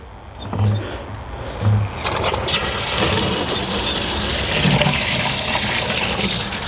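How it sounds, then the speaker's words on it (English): Water gushing steadily into a bucket for mixing mortar outdoors, a continuous loud rushing that builds slightly over several seconds, with a few low knocks near the start. "So let's fill up our bucket of water."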